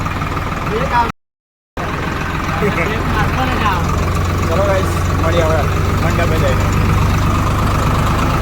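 A tractor engine idles and runs with a steady low rumble beneath people talking, heading out with a DJ sound setup to a wedding pavilion in a village on muddy, rain-soaked ground; a brief dropout to silence comes near the start.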